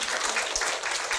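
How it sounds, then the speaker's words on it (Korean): A gathered lecture audience applauds a Catholic priest with a brief, dense patter of many hands clapping at even strength throughout, with no voices over it. "신부님 큰 박수 부탁드려요"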